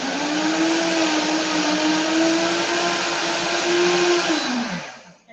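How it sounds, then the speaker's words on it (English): Optimum G2.6 blender running steadily on a grind setting, mixing flours and sugar for a cake, with a loud, even motor whine lasting about four seconds before winding down. "I'm gonna turn it on and go ahead and proceed with the grind function"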